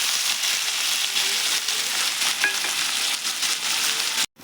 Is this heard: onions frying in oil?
yes